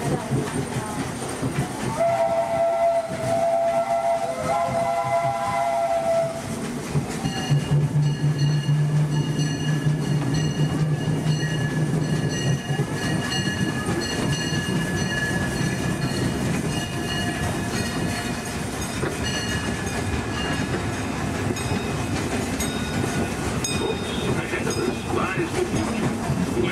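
Disneyland steam train rolling through Fantasyland, with steady loud rumble and clatter of the cars, a whistle-like tone early and a low chuffing hum midway, continuing throughout without speech.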